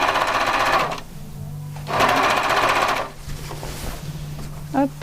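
A sewing machine stitches bias binding onto a fabric hem in quick rapid bursts, two loud runs separated by a pause, with soft handling clicks and rustling of cloth afterward.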